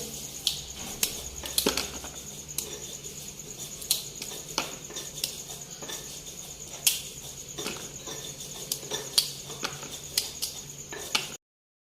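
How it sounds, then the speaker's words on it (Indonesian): Peeled cassava being chopped into small pieces, a steady series of sharp knife taps on a board at an irregular rhythm, fairly close and moderately loud over a faint background hum. "kemudian langkah kedua yaitu kita potong-potong menjadi bagian-bagian kecil"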